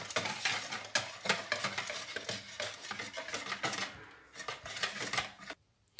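A dough mixture for a soft, airy shehda pastry is stirred and mixed in a bowl, with continuous scraping and clinking of a utensil against the sides, fairly close, fading near the end.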